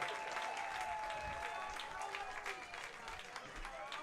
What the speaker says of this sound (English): Let's go Oakland chants starting up in the crowd, trying to will on the ballers to yet another win